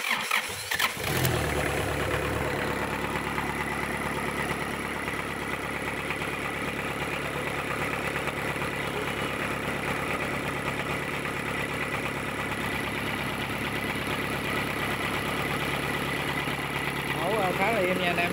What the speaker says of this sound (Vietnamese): Rồi đây em đề nổ cho anh em xem nha.